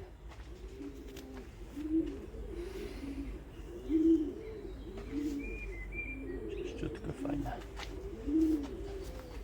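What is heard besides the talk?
pigeons cooing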